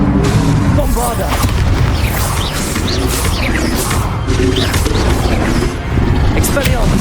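Bombarda spell explosions boom in Hogwarts Legacy combat, a loud sustained barrage of crashing blasts and impacts, with a voice calling out over the chaos.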